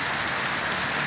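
Heavy rain pours steadily in Jhelum, Pakistan, a dense continuous hiss of drops with no voices.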